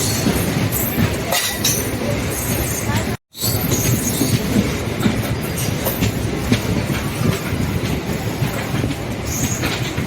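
A main line electric multiple unit train between Karur and Trichy rolls along continuously, with rumbling wheels, rhythmic rail clatter and occasional clinks, heard from on board with a brief dropout.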